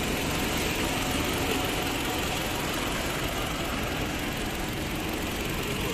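A Toyota Camry's 2.5-litre engine idles under the open bonnet, a smooth, even, continuous hum at steady loudness with no revving.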